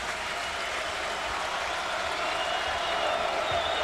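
A basketball crowd at a men's college game, Washington against Oregon, cheers and applauds in a dense, continuous wash of clapping and roaring voices.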